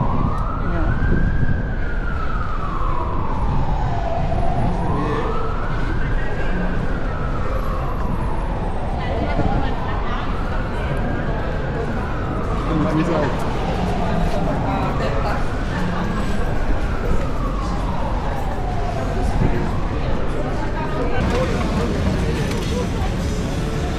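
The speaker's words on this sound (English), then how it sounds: "Oh, there's her ambulance." An ambulance siren wails in slow rising and falling sweeps over steady traffic rumble on a street in Lisbon, Portugal, fairly loud and continuous, with voices faintly underneath.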